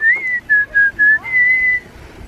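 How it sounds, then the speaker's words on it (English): Someone whistles a short tune of several clear, sustained notes while riding a bike through Celebration, Florida, close and alone over a faint background. "Just whistle while you ride."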